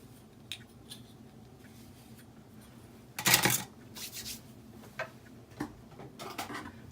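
Black cardstock is trimmed with a cutter at close range on a quiet tabletop: faint ticks and rubbing, one louder sharp scraping cut in the middle, then a few soft cutting and handling sounds.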